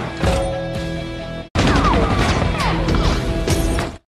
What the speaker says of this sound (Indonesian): Seketika itu bom meledak di depan wajah Julian hingga terluka dan meninggal di tempa